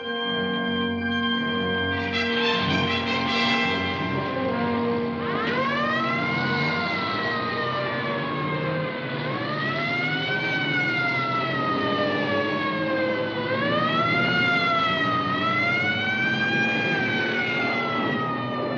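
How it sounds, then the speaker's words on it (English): A loud siren wails continuously, its pitch sweeping slowly up and down without a break over a steady low hum. "That's not the crash siren. Listen, it's constant."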